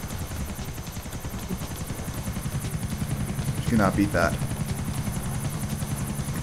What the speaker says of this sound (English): I spawned a chopper in midair as I was flying.